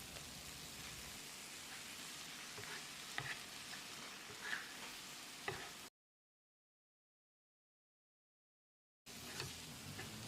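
Steady sizzling and crackling of tomato masala sautéing in a pan with a little water, close and continuous, with a few light scrapes and a short silent gap.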